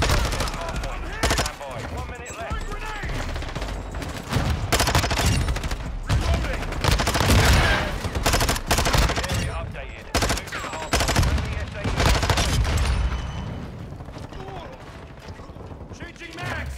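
Vaznev-9K assault rifle in Modern Warfare 2 gameplay, with rapid bursts of automatic gunfire mixed with weapon mechanism clicks and game effects, loud and dense throughout, with some talk faintly underneath.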